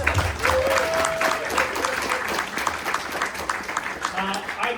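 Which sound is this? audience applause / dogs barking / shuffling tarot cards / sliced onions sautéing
audience applause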